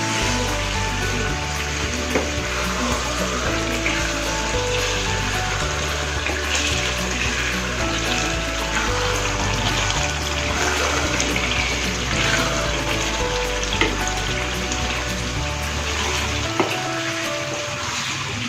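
Aloo methi simmering in a pan as the remaining water cooks off, a steady close hiss and soft bubbling that carries on evenly without pause and without any talking.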